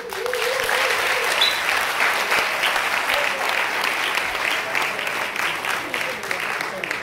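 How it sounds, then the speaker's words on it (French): A large audience applauds the dean of the law faculty at the results ceremony of an eloquence competition final, with dense, sustained clapping throughout and a voice briefly audible over it near the start. "Le doyen de la faculté de droit, que je vous invite à applaudir."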